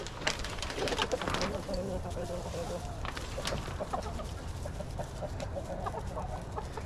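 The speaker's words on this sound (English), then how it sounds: "So that's an original chicken." A backyard flock of chickens clucks and murmurs close by, with short squawks and soft cooing over a busy outdoor bed. A person talks over them now and then.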